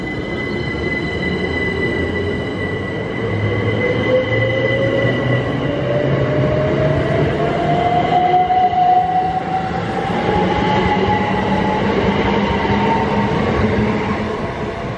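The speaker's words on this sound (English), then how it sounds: "Once the train arrives" A GWR HST train rumbles steadily close by at a station, wheels squealing in long rising and falling tones as it rolls in and slows.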